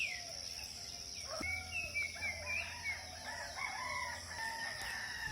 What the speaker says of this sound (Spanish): Si escucharon ya los gallos